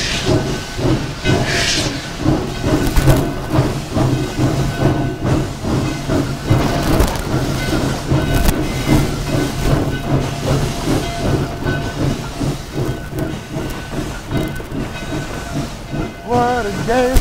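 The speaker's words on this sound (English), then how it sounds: "What a day for a train ride!" A steam train on the Virginia and Truckee Railroad runs steadily and loudly, its hissing steam and rhythmic chuffing continuing throughout over rumbling rail noise, with a brief whistle-like tone near the end.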